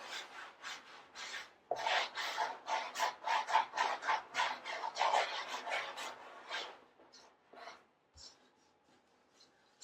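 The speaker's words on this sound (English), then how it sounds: "rub them in. These little roly-polies. Little pieces of clay." Small pieces of clay rubbed by hand into an earth-pigment surface, a close, dry, scratchy rasp in quick rhythmic strokes that swell and fade before trailing off into a few isolated scrapes.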